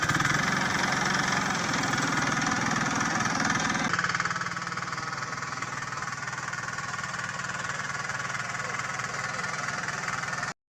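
A pull-started small engine on a farm runs in a steady, continuous idle with a knocking, chugging rhythm close by, shifting slightly in tone partway through before cutting off at the end.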